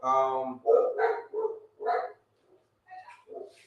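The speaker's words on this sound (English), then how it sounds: "My dog is there barking." A dog barks in a quick string of sharp, close barks with short gaps, a few softer yips trailing off near the end, loud and clear in an indoor setting.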